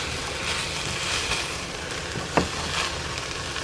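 Blended spinach stirred into a pot of soup, giving a steady, soft wet swishing and bubbling with one brief scrape of the spoon against the pot, no voices.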